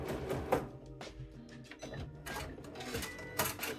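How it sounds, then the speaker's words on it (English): Sewing machine stitching in free motion quilting mode, running in close, busy bursts of rapid needle clatter with brief pauses, heard near and alone. "We're going to sew all the way around and stop at that marker point."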